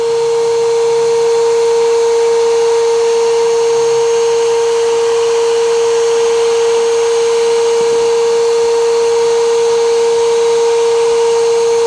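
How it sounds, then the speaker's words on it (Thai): A STIHL SEA 20 vacuum cleaner runs steadily and loudly, with a strong, constant motor whine and airflow hiss as it sucks up sand grains and dirt from a car floor. The tone stays unbroken throughout, with only a faint rattle of debris. "จะเห็นได้ว่าสามารถดูดพวกเม็ดทราย พวก เศษดินเข้าไปได้ด้วยนะครับ"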